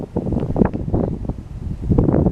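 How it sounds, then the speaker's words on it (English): Gusty wind buffeting across an outdoor vegetable garden with young plants, a rough, fluttering roar of air on the microphone that rises and falls in short bursts, close and fairly loud, with no one speaking. "And the wind keeps blowing."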